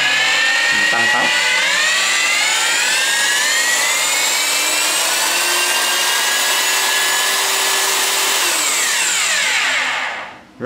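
A European-made 220V electric jigsaw runs at increased speed, giving a loud, steady, high-pitched blade whine that holds for about ten seconds and then cuts off abruptly.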